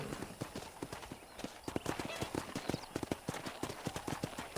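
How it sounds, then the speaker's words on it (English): Rhythmic clip-clop of horse hooves trotting at a steady pace in the video game Red Dead Redemption, crisp and close, with the beats running continuously throughout. "I picked out a fine horse for you."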